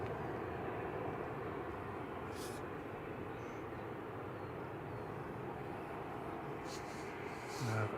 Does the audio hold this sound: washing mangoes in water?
no